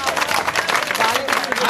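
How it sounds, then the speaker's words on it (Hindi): Audience at a memorial program applauding for Deepak bhai, a brief burst of dense crowd clapping, close and lively, with voices mixed into the noise. "तो दीपक भाई के लिए एक बार जरा जोरदार तालियां बजा दो"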